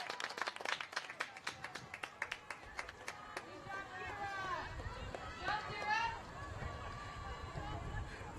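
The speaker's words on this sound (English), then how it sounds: "She gets a big cheer from this crowd." A soccer crowd at a girls' high school match between Milford and Canton applauds a substituted player, with quick scattered clapping followed by a rising murmur and cheers, under a commentator's voice.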